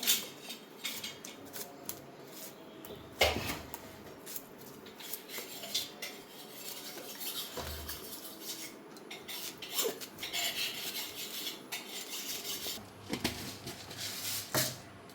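A knife chopping vegetables for thoran, with irregular taps and scrapes on a board plus occasional clinks of utensils, close and fairly quiet, with no talking.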